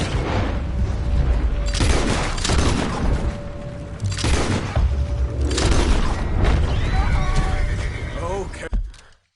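Gunfight in Red Dead Redemption 2 against United States Army soldiers guarding cargo, heavy booming shots at intervals amid horse neighs and hoofbeats, with someone shouting over the chaos.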